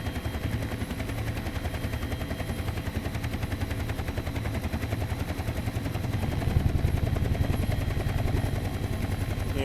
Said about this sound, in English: Helicopter lifts off the ground.